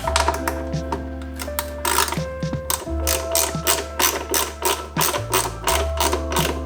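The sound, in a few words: 8mm socket ratchet undoing bolts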